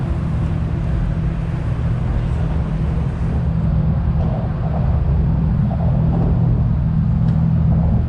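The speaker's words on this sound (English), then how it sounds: "He's gonna get in his car and leave." Steady car engine rumble at an outdoor car meet, holding a low continuous drone for several seconds and swelling slightly louder toward the end as the car pulls away, with no voices.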